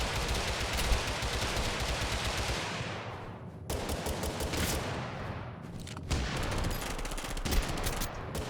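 Dense, continuous shotgun fire in the video game Totally Accurate Battlegrounds, loud blasts overlapping almost without pause, with brief drops in the roar partway through and no voices.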